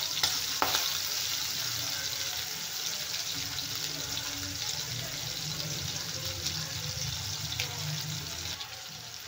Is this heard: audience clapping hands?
no